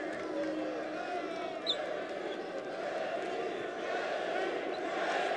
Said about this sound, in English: And now the crowd starts to chant, Reggie, Reggie.